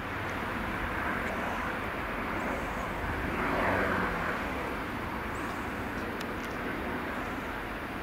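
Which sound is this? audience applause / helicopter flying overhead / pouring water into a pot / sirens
helicopter flying overhead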